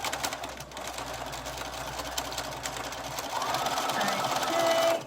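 A sewing machine runs a reverse stitch along a seam, one steady close whir that continues unbroken for several seconds.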